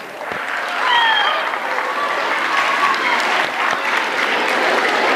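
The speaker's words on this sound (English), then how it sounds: "Give yourselves a round of applause." Students at a school end-of-term assembly give themselves a round of applause, a loud, dense wash of clapping that swells near the start and holds steady, with a few whoops and cheers rising above it.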